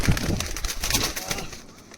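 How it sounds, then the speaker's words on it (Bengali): Madras pigeons in a loft give close, continuous guttural coos with a busy burbling texture that fades slightly toward the end. "তো বন্ধুরা এই হচ্ছে ম্যাড্রাস পাড়া"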